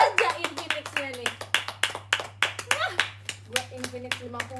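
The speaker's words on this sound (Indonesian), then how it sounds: "Coba tepuk tangan." A small group claps hands in a series of sharp, uneven bursts at close range, with a voice and chatter heard between the claps over a steady low hum.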